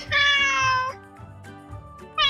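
A cat gives a long, clear meow, followed by softer, shorter mewing calls and the start of another loud meow at the end.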